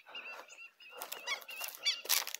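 Wild ducks, marreca teal among them, call nearby in a quick series of loud nasal honking quacks, a few short bursts close together with no talking.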